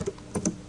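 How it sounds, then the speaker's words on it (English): Brief typing on a Windows computer keyboard, a handful of quick, crisp key clicks in under a second. The clicks are close and alone with no talk. "And then I'll just start typing."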